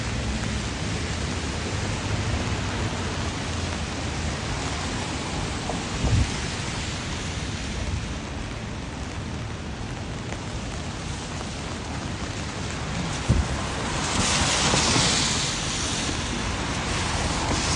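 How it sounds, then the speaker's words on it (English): Steady rain falls outdoors on a walk through Los Angeles as a dense, even wash of noise. It stays loud and constant throughout, with a couple of brief thumps and a swell near the end. "walking in LA, walking in the rain"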